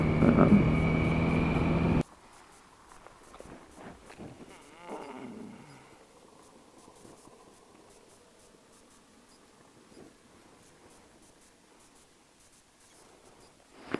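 A 1981 Yamaha XJ650 motorcycle being ridden gives a loud, steady engine roar for about two seconds, then cuts off abruptly, leaving only quiet background noise and a few faint scattered sounds.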